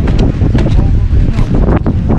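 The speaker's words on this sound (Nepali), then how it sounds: "ए हावाले उडाउला कस्तो हावा चले मलाईसम्म" Strong wind buffets the microphone on a cold, exposed hillside in Kavre, Nepal, in loud, uneven gusts that rise and fall in quick surges with brief lulls between them.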